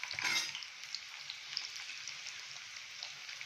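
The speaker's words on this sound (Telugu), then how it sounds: "ఆయిల్ వేడి అయింది. ఫస్ట్ మనము ఆనియన్స్, గ్రీన్ చిల్లీస్ వేసేసుకుందాము." Onions and green chillies sizzle in about four spoons of hot oil, a steady close crackling fry with a brief louder stir near the start.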